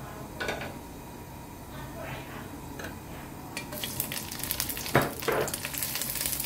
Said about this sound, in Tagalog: Igisa muna natin or i-fry muna natin ang ating dilis.